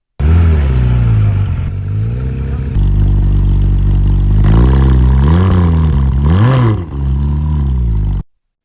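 A Porsche sports car engine idles loudly up close, then revs repeatedly, the pitch climbing and falling in several throaty surges before cutting off.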